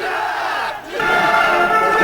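A large crowd of young students gathered in a square roars in angry unison, a loud sustained shouting that dips briefly and then surges again even louder.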